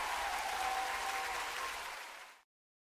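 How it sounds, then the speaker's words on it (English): A live audience bursts into steady, dense applause that holds strong and then tapers off quickly, ending in silence near the close. "Definitely worth the applause for sure."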